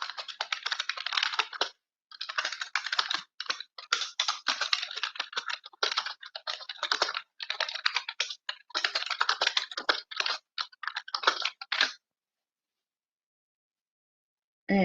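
Rapid typing on a computer keyboard clatters in quick bursts with short pauses, then stops, leaving near silence until a brief sound at the end.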